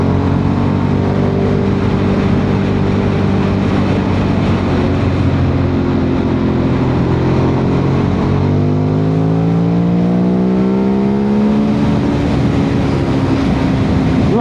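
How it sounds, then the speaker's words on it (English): A Ducati 848 Streetfighter V-twin motorcycle engine revs loudly and steadily up close, its pitch climbing and falling in rolling surges with no one talking. "Lovely torquey V-twin."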